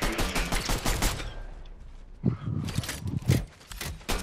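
Gunfire in the video game Fortnite: several short bursts of rapid shots, loud and close, with quieter pauses between and some faint talk underneath.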